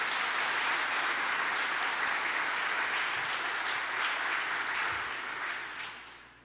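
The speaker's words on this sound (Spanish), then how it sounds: "Dale fuerte el aplauso al Señor." A church congregation applauding the Lord during a worship service, dense sustained clapping from many hands that holds steady and then fades out near the end, with no speech over it.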